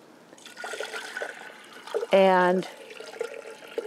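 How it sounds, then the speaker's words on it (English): Water poured into a container to soak the roots of a clematis plant being transplanted, a short gushing pour of about half a second amid quiet talk. "And then I'm going to pour water in"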